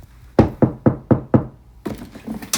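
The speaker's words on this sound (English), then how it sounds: "I'm just knocking. It is very sensitive. It's made out of, I think, wood." Knuckles rap on a wooden wall inside a house in Canada, five firm, evenly spaced knocks close by, followed by a burst of shuffling handling noise.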